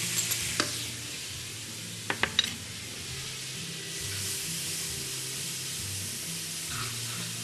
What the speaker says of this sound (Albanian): Tek po ai vaj, Do të shtoj qepën